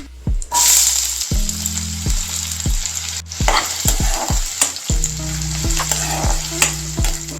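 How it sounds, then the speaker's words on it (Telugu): Onions tossed into hot oil for an egg masala, a loud, crackling fry with repeated clattering stirs against the pan, heard alone and close. "ఆయిల్ అయితే హీట్ అయిపోయింది ఇప్పుడు ఇందులోకి ఆనియన్స్ అయితే యాడ్ చేసుకుందాం"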